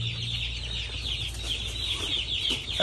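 Chickens cluck steadily in a farm coop, a dense continuous chorus of many birds close by with no talking over it.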